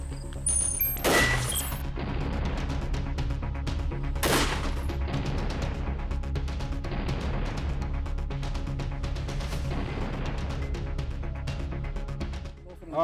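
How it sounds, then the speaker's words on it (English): An SRM-16 shotgun fires buckshot and slugs at an armored bulletproof vehicle, with two sharp, loud blasts early on and ringing, clattering reverberation that carries on behind continuous background noise. "It's an SRM-16. Firing two buck"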